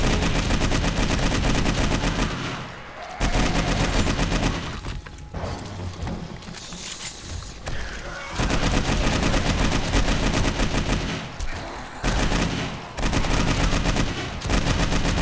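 Sustained, rapid automatic gunfire mows down a zombie horde in the video game 7 Days to Die with the Darkness Falls mod, loud bursts separated by brief pauses and heavy impact thuds.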